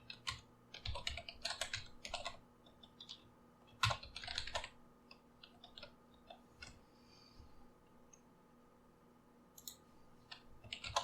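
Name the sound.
typing code on a computer keyboard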